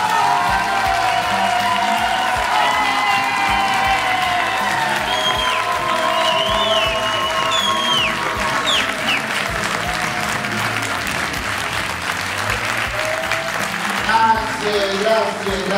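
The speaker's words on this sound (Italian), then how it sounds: "Vediamo con un solo applauso quanto avete gradito questa nobile manifestazione." A theatre festival audience applauds throughout, dense continuous clapping mixed with crowd murmur and a few voices, holding steady for the full length.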